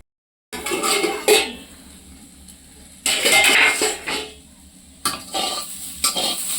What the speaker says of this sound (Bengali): এদিকে ভাত বসছে আর একটা উচ্ছা ভাজা বসছে